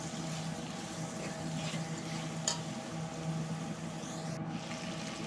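Tomatoes and curry leaves frying in a pan for biryani, with a steady low sizzle and soft stirring scrapes running throughout, plus one brief sharper clink partway through.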